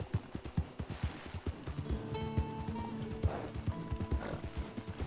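Hooves of a wild horse clip-clop steadily and loudly in a video game, with tonal mechanical or musical tones layered in the middle of the passage and no talking.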